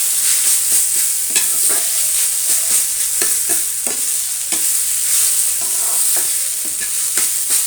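Banana flower frying with fenugreek in a pan, a constant bright sizzle broken by a steady series of scraping, clacking stirs from a spatula, close and loud, with no talk.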